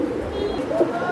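Pigeons cooing at a pigeon breeding farm, a close, low, throaty coo that rolls on through the whole moment, with no talk over it.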